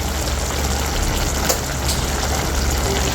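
Continuous rushing of water pouring into a pot, loud and close, steady throughout with no talking.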